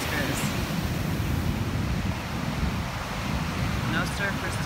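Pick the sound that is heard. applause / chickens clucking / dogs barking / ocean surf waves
ocean surf waves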